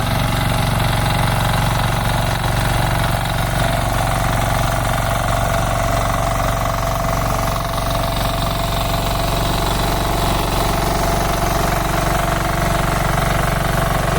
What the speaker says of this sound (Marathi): ह्या पद्धती ट्रॅक्टर तो चालवता इकडे.